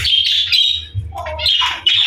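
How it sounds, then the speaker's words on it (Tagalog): Several birds close by give harsh, shrill squawks in quick bursts, with short gaps and a low hum underneath. "palabasin muna natin yung mga ibon natin"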